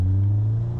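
Subaru Impreza engine in first gear, a loud steady low drone held for under a second, close and without talk.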